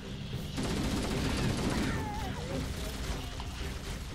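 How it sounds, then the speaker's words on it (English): Gunfire in Halo: Combat Evolved on Xbox One, played on Legendary: a dense, continuous burst of rapid shots running the whole time over game effects, with a player talking over it. "I'm fixing to shoot this guy."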